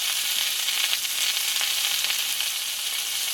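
Chopped tomato and slit green chillies fry in a pan with spices while cooking a pumpkin-stem dish, giving a steady, close, bright sizzle that holds evenly throughout without any voices.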